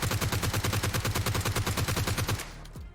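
Rapid bursts of gunfire in PUBG Mobile's Metro Royale mode crackle in a steady, loud rhythm for about two seconds, then cut off, leaving a faint lower rumble.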